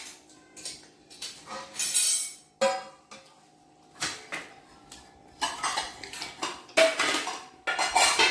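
Dishes and cutlery clink and clatter in a home kitchen where bhakri, kadhi and khichdi are being served, with sharp bursts of rattling plates and spoons coming in irregular clusters, fairly close and with no talk.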